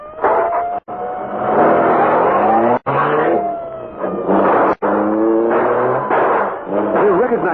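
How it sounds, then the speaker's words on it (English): A police car drives in an old-time radio drama, its engine surging and whining in repeated rising passes, loud and close, broken by short gaps. "It's a police car, all right."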